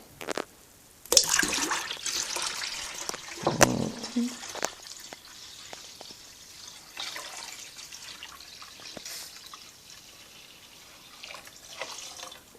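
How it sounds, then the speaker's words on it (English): Tap water pours into a container in a strong, splashing rush that tapers to lighter trickles and scattered drips, close by in an indoor space. "I'm going to bring it up to level with straight tap water"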